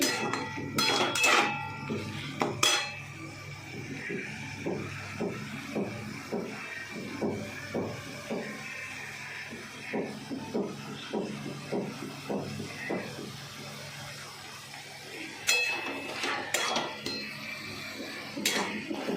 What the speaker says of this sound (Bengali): আমি কষাচ্ছি।